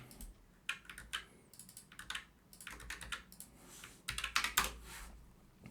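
Rapid computer keyboard typing while entering TypeScript code, bursts of crisp key clicks in uneven runs with short pauses, close and fairly quiet, no voices.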